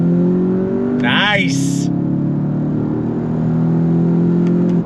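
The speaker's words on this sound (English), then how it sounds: "First gear, on throttle." A 2024 VW Jetta GLI accelerates hard in first gear, its engine drone steady and loud from start to finish, with a brief spoken word partway through.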